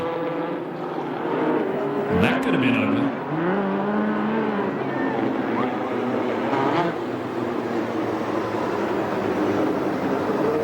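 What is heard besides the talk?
USAC sprint cars and midgets racing on dirt track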